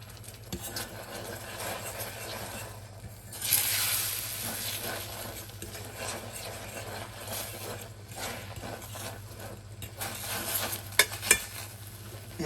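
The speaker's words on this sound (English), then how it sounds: "And we let it just sit for a minute, and with the fork down, I'm just going to mix that around" Egg and miso omelet mixture sizzles steadily in a hot pan while a fork stirs and scrapes through it, with a few sharp metallic clicks near the end; no speech.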